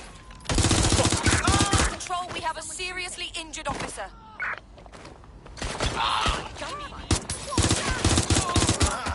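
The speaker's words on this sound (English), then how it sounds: "That sounds like gunfire." Rapid bursts of gunfire from the video game Watch Dogs: Legion crackle in dense volleys, loud and close, with a radio-style voice talking between the shots.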